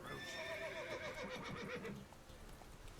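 Roach, Geralt's horse in The Witcher 3, lets out a clear, close whinny lasting about two seconds with hoof and game ambience beneath, then fades to quieter background.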